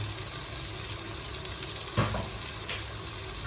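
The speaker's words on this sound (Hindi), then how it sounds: "इसको हम हिलाएंगे, अच्छी तरह मसाले का भून लेंगे" Spices frying and sizzling in a pan with potato and green capsicum, a steady close hiss broken by a scraping stir of the spoon, with no talking.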